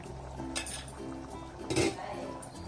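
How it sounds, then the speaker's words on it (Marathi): A lid is lifted off a pot of simmering matki sprouted moth bean curry on a home stove, giving a couple of light metallic clinks and one brighter clatter over a low bubbling hiss, with faint talk in the background. "आपण झाकण उघडून बघू"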